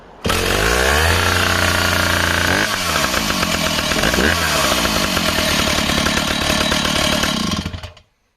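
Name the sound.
1970s chainsaw running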